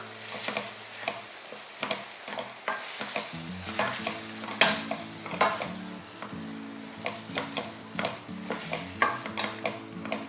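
Tomato rice masala with turmeric, chilli powder, coriander powder, salt and asafoetida is stirred in a hot pan, a close sizzle under repeated spatula scrapes and clinks against the metal vessel in an uneven rhythm, with no talking.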